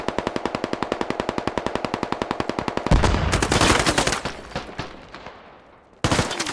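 Rapid, evenly spaced automatic gunfire rattles for about three seconds in a multiplayer shooter game, then gives way to heavier overlapping blasts and shots that fade before a sharp new burst cuts in at the end.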